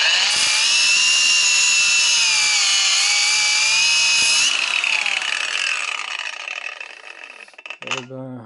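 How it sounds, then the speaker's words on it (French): A cordless angle grinder on a Makita-compatible 6Ah battery whines loudly at full speed, holds briefly, then winds down with a falling tone before a short rattle at the end; no talk. "Cette batterie est maintenant montée sur une meuleuse"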